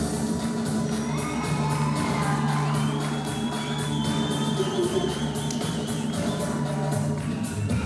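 A student concert audience gives a sustained ovation, with dense crowd noise, whoops and shouts holding steady throughout over a constant musical drone.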